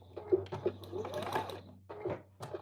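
A sewing machine runs a short top stitch through fabric and interfacing, a quiet, steady mechanical whir with a few soft clicks, close by.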